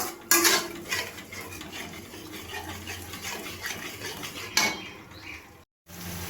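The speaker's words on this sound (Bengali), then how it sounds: "এবার মশলার সাথে টক দইটাকে ভালো করে মিক্সড করে নেব।" A spoon stirs whisked sour yogurt into fried spice paste in a pan, with soft scraping and clinking under a low background sizzle and two sharper knocks of the utensil against the pan.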